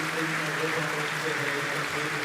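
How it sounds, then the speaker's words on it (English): A table tennis crowd at the 2022 European Championships in Munich rises for a standing ovation, a broad continuous roar of applause that fills the arena at an even level throughout. "there he is, getting a great standing ovation from the crowd"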